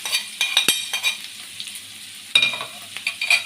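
A utensil stirs chicken gizzards, liver, onion and garlic frying in a pan, giving scattered scraping clicks and brief clatters over a soft, steady sizzle.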